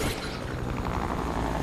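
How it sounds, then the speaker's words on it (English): A video game helicopter drones with a dense, loud rotor roar and a steady, rapid thudding rumble, heard up close and continuous without voices. "That's the helicopter I'm going to."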